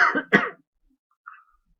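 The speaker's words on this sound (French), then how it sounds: "Je tousse tout le long de l'année." Two quick, harsh coughs close to the microphone, then a faint short throat sound after a pause.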